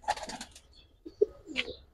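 Pigeons at a seller's stall give a few soft, short coos and murmurs, spaced out with gaps, fairly quiet and close, with no talk over them.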